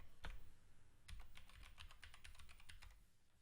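Quiet, close-up clicking of computer keys as a keyboard shortcut is typed: one isolated press, then a quick irregular flurry of taps over about two seconds, with no talking.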